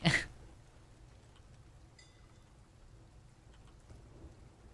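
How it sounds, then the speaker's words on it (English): A thunderstorm with rain over the ocean opens with a sharp, loud burst, then settles into a steady low rumble and soft hiss of falling rain, heard at a distance with no talking. "I am stressed by the storm and the ocean"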